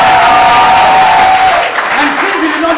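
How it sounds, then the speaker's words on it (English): An audience at an entertainment awards ceremony applauds, a dense sustained clapping and crowd noise filling the room while a voice speaks over it and musical tones drift in the background. "give a round of applause"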